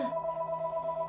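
A mobile phone rings with a steady, bright electronic tone that pulses evenly throughout, moderately loud and close with no talk over it.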